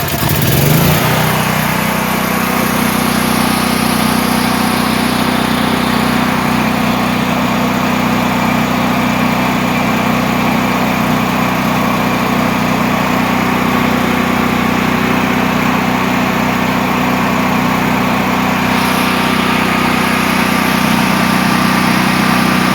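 A Duramax 8500 dual fuel portable generator engine catches after a short start and then runs loud and steady up close, a constant droning hum that holds without a break for over twenty seconds with no voices.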